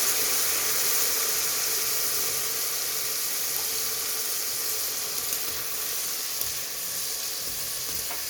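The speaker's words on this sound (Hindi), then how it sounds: "थोड़ा पानी डालें ताकि मिर्चें जलने ना लग जाए।" Water poured into a hot pan of frying chilies and fenugreek for daal mash sets off a loud, steady sizzle and hiss that holds evenly throughout, with no talking.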